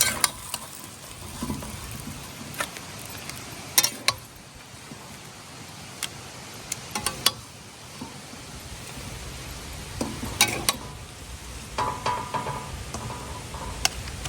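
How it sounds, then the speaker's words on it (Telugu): Chicken frying in a pan for a home-style Telugu chicken fry, a steady soft sizzle with occasional clicks and stirring taps, fairly quiet and close, with no talking. "అది బట్టి చికెన్ ఫ్రై చేస్తా."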